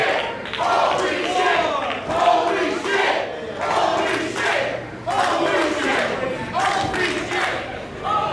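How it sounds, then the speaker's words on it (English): A wrestling crowd roars after a high-flying Spanish fly off the second rope, loud surging waves of yelling and cheering broken by short dips, with thuds and shouts mixed in. "The crowd beside themselves."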